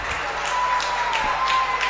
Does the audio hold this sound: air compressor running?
no